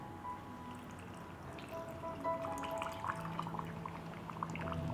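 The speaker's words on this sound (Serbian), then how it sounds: "I sada ću teglu napuniti sa slanom vodom." Salt-water brine poured into a jar packed with cabbage, a steady close trickle and splash running continuously with small drips on top, no talking.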